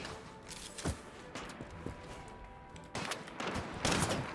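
Gunfire in the anime-style shooter Strinova, bursts of rapid shots close by with a brief lull, then louder volleys toward the end, no voice over them.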